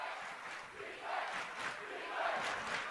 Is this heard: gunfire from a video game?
no